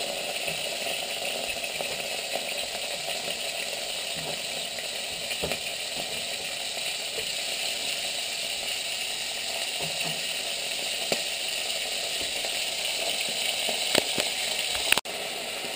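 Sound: beef pieces searing in very hot oil on electric hotplate

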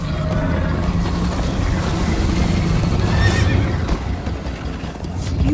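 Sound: horse neighing and hooves clip-clopping in Minecraft Story Mode video game

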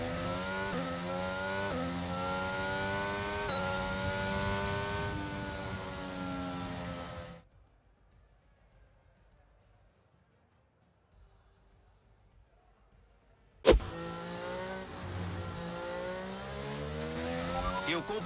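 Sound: race car engine in F1 2022 video game

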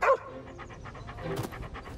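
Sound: dog barking enthusiastically

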